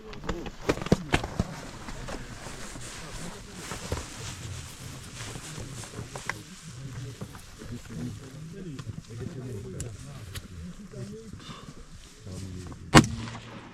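Rifles fire at a precision shooting competition, with a few sharp reports near the start and one loud crack near the end, all heard under people talking across the range.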